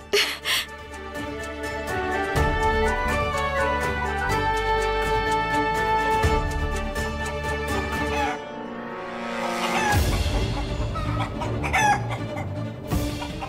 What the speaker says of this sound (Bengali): মুরগির আওয়াজ